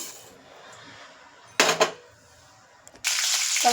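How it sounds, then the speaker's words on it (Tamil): Mustard seeds dropped into hot sesame oil for a garlic pickle burst into a sharp, loud sizzle twice, the second settling into a steady crackling hiss after a quiet pause. "நல்லெண்ணெய் ஊற்றிட்டேன், காஞ்சிருச்சு. கடுகு ஆட் பண்ண போகிறோம்."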